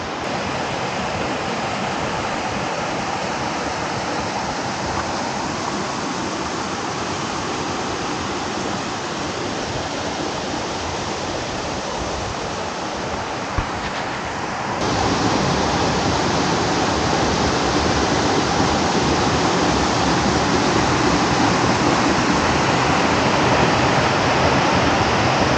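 Mountain stream rushing beside a hiking trail near Calabritto in southern Italy, a broad continuous roar of water that holds steady, then swells slightly louder partway through.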